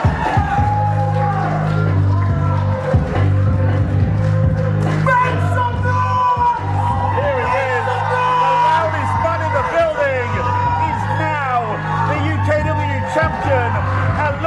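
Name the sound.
wrestling crowd cheering for the new UKW heavyweight champion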